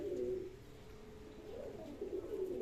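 A pigeon in a pigeon loft gives soft, repeated throaty coos in a few short phrases, fairly close and low in level.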